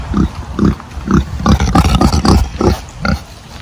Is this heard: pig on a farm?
yes